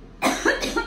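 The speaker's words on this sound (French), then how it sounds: "C'est la poudre qui m'a fait tousser." A person coughs three times in quick succession, close and fairly loud.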